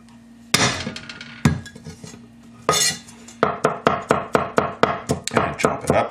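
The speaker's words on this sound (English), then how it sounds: "smash up some garlic" Garlic cloves are smashed on a cutting board with sharp, loud knocks, a few spaced strikes at first followed by a quick, regular series of close impacts.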